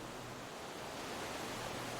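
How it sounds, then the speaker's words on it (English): Soft ocean waves washing in steadily at El Nido in the Philippines, a continuous broadband hush with no distinct breaks, even and gentle throughout with no voices. "The last thing you remember is the rhythmic hush of the waves"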